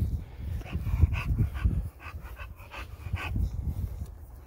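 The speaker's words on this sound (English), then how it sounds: "she makes noises like a pig. So be prepared for snorting" A Victorian Bulldog snorts and snuffles close by at a park in short, wet, irregular bursts, with heavy panting breaths between.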